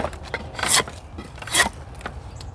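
A drawknife slicing through dry mulberry stock, two strong rasping strokes a little under a second apart with softer scraping between, close and clear with no talk.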